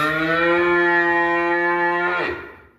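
A young calf gives one long, loud, steady moo close by, holding its pitch for about two seconds before trailing off.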